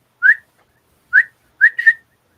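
Eerie whistles during a tabletop roleplaying game: four short, clear rising notes in three bursts, the last two close together, separated by silence.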